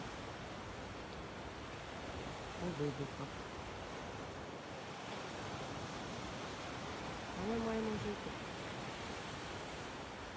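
Steady, broad wash of Black Sea waves and surf close by at Odesa in May, with someone speaking briefly over the constant roar.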